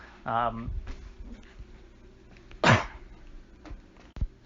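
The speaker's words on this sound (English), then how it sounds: "Oops, I accidentally let that cough in there." A single sharp cough stands out close to the microphone, preceded by a short voiced sound and followed by quieter clicks.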